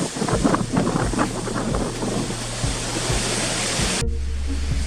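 Strong wind whipping across an exposed mountain summit, a loud continuous roar with gusty buffeting against the microphone that cuts off abruptly near the end, leaving quieter steady wind.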